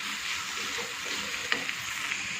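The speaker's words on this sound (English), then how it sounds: "Now you will saute it well, mix it well, and let the capsicum cook nicely." Capsicum sautéing in a pan for a tawa paneer bun gives a steady, close sizzle and fry hiss throughout, with a few brief stirring clinks and scrapes near the middle and no talk.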